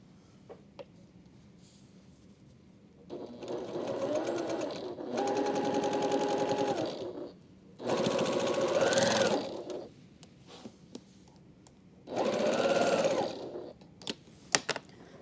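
A sewing machine stitches a quilt block for a star-pattern mini quilt in three separate bursts of steady whirring, close and clear, with quiet pauses between runs.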